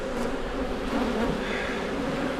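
Honey bees swarm around a hive frame late in the season, a dense, steady buzzing drone that holds close and loud throughout with no voices.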